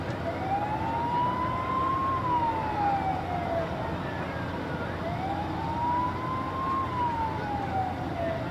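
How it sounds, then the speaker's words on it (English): Wailing sirens from approaching parade lead vehicles, likely fire trucks, at the Mound City Days Parade in 1995: two slow rising-and-falling wails over a steady crowd and traffic rumble, moderately loud and continuous. "Right now you can probably hear the sirens in the background."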